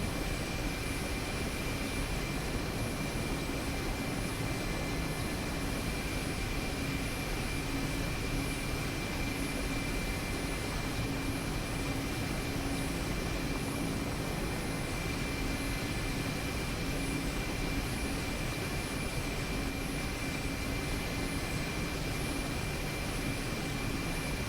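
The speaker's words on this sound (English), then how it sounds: "Standard helicopter type landing out of ground effect." A Mi-8 helicopter comes in to land in the DCS flight simulator. It sounds like a steady, dense turbine and rotor drone that holds at an even loudness for the whole stretch, with no voices over it.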